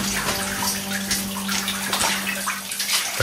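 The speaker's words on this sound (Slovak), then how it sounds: "Trošku viac vodičky." Steady rushing water flows inside an old abandoned mine adit from 1979, a continuous close gush with a gurgling edge and a low hum, heard alone.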